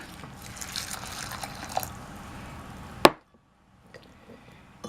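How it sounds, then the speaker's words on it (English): Water pours and trickles steadily onto dried peppers in a container, ending in a sharp clack before the sound stops and near silence follows. "now I just need to add some water to the peppers"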